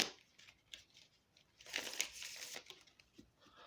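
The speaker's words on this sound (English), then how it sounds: "Let me shuffle these cards and see what pops out" Tarot cards shuffled by hand during a Taurus reading: a close, dry crinkling and riffling of card stock in quick bursts, rising to a louder flurry midway before settling into lighter scattered flicks.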